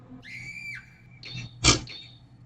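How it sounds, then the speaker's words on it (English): A generic scream sound effect from a video game: a shrill, wavering cry that cuts off, then a brief sharp burst and another short high squeal, all quite loud against near silence. "Generic Scream 1. What was that?"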